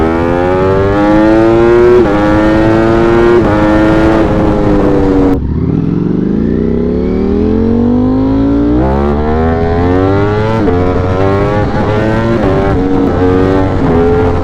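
A loud 200+ horsepower motorcycle engine winds up through the gears on a highway ramp, revs climbing and dropping at shifts, with crackling exhaust pops, very close and dominant throughout.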